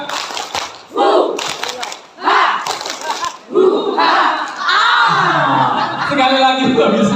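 A group performs a rhythmic Indonesian spirit clap chant at a preschool scout-leader training session, with loud shouted group voices and bursts of clapping in short repeated phrases.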